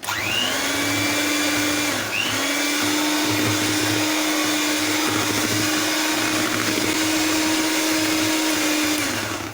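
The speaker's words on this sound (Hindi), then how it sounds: "कंडेंस मिल्क को ऐड करने के बाद हम लो स्पीड पे इसको इतनी देर बीट करेंगे कि अच्छी तरह मिक्स हो जाए।" An electric beater whirs steadily on low speed through condensed milk, a loud, continuous motor drone with a couple of brief dips and pitch shifts as the beaters move through the mix.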